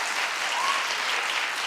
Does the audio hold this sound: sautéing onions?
no